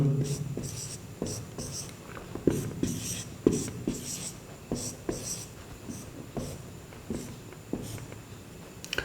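Marker or chalk scratches on a board as small circles are drawn quickly one after another, a series of short rubbing strokes in an irregular rhythm, close and fairly clear.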